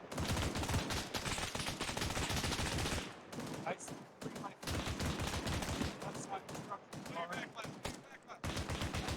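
Dense, sustained automatic gunfire fills a military video game firefight, with rapid close bursts rattling loudly, a short lull with scattered shots, then heavy firing again. Voices speak faintly underneath.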